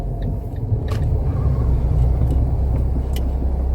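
A manual-transmission car slowing and pulling over to park on a road, heard as a steady, loud low engine and road rumble from inside the cabin with no break.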